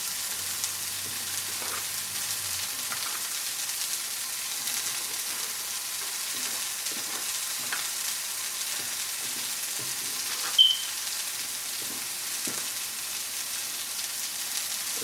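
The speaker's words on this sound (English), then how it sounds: "I'm gonna need that little simmer, honestly, for about 5 minutes, just like that." Vegan sofrito cooking slowly in a pan over medium-low heat, giving a steady soft sizzle and hiss with occasional faint stirring clicks, no talking.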